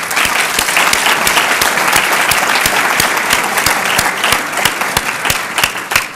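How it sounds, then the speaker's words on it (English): A crowd at a reception applauds loudly and continuously, thick, even clapping from many hands filling the room without any talk over it. "That certainly deserves a round of applause."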